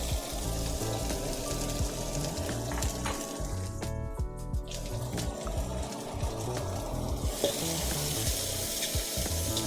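Onions frying quickly in hot oil in a wok for Thai pork and basil stir-fry, a loud continuous sizzle and crackle with stirring clatter, briefly dipping in the middle before resuming.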